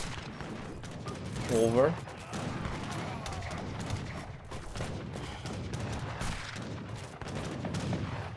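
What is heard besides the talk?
mortars firing in the video game Age of Empires III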